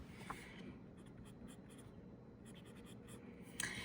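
A fountain pen with a 14K nib writing on paper, a faint soft scratching that runs steadily across the page with small taps, quiet and close with no talking.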